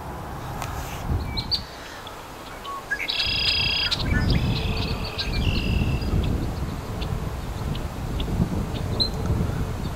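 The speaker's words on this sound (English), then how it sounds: "here we have the first female yellow-headed blackbird that I've sighted this season, sitting atop a cattail in this patch right here" A female yellow-headed blackbird on a cattail beside a silty, sandy river path gives bright chirping calls, a few clear outdoor notes standing above a steady background of wind and distant rumble, with no talking.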